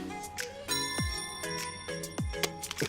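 A smartphone ringtone chimes indoors, a bright melodic sequence of repeated tones with a short pause between phrases, clear and moderately loud.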